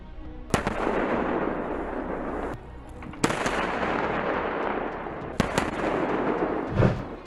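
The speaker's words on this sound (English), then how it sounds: "the Ukrainian troops can be heard shouting as the enemy vehicle disappears in a large explosion" Sharp cracks of gunfire punctuate a loud, rumbling roar of blasts in fighting in Ukraine, several impacts spread across the stretch, with a dull explosion thump near the end as an anti-tank missile destroys a Russian vehicle.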